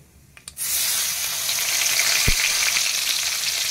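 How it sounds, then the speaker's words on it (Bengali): Chopped tomatoes dropped into hot oil with fennel seeds for a pomfret mustard curry, bursting into a loud, steady close sizzle after a brief clatter, no talk. "এবার দিয়ে দিচ্ছি কেটে রাখা টমেটো,"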